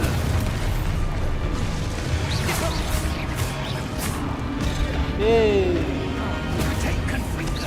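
Exploding Expulso-style spell in Hogwarts Legacy, crashing blasts and pops amid a constant loud combat din, with a whooshing magical tone rising midway as a voice talks over it.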